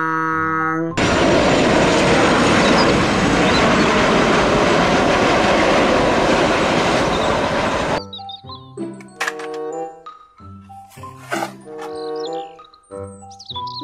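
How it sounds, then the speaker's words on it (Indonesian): A loud, steady roaring engine noise like an airplane, from a toy airplane, fills most of the clip, then cuts off into scattered chimes and toy-like beeps. "Pesawat terbang."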